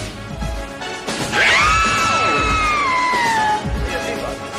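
Women screaming in a dramatic scene, a loud sustained high wailing cry that bends downward, rising over a noisy bed with thumps.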